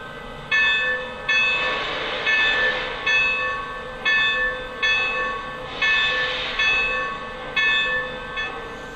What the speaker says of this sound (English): That, of course, was the continuous ringing bell.